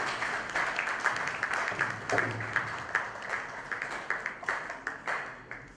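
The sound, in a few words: applause for the word of God at a book launch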